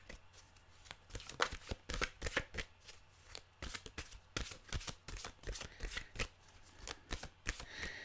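A deck of mantra cards being shuffled close up, quick repeated riffling bursts in an uneven rhythm, with no talking over it.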